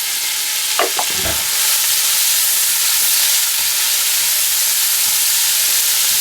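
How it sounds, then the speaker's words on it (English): Small diced onion and thinly sliced green onion sauté in a hot pan, a loud steady hiss and sizzle close up, with a few brief stirring scrapes near the start. "We're going to saute this for 2 minutes."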